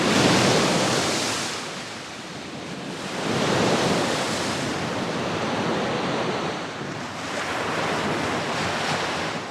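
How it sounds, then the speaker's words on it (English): Surf washes against a steep fjord coast in western Norway near Stavanger while wind rushes across the microphone, the roar swelling and easing in slow surges, loud and close, with no voices. "Wind and waves constantly chisel and change the face of the coast."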